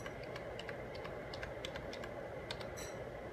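Typing a password on a computer keyboard during Raspberry Pi RetroArcade setup: a steady run of light, quick keystroke clicks, close and fairly faint, with no talking.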